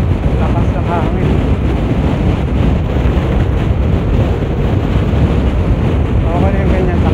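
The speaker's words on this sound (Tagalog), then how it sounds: "Lakas ng hangin." Strong, steady wind roars across the microphone aboard a moving boat off Negros, Philippines, with a constant rush of engine and water noise underneath.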